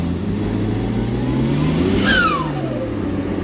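A 2JZ-swapped Ford Escort Estate revs hard, the engine note climbing steadily and then a rising whine as the wheels break loose, loud and continuous from inside the car.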